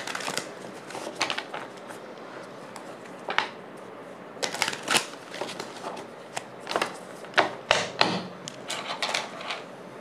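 Playing cards being handled and sorted close by, giving quiet, irregular snaps, flicks and taps in scattered bursts with short pauses between them, and no voices.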